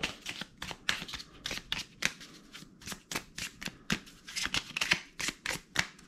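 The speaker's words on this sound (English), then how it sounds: "All right, we ran them through that. Give them a shuffle." Someone shuffles a deck of flight cards by hand for a Ju 87 Stuka board game, giving a rapid run of crisp riffling and slapping bursts, close and fairly loud with no speech.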